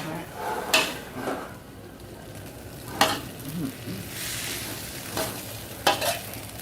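Spaghetti and bacon are stir-fried in a pan, with a few sharp spatula scrapes and clanks standing out over a steady background sizzle.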